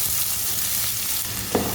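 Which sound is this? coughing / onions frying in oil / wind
onions frying in oil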